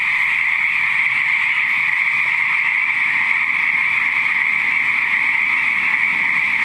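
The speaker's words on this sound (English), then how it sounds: "it is of some frogs making their beautiful music" A dense, steady chorus of frogs croaking continuously in Castro Valley, a high trilling band with no pauses, fairly close and loud.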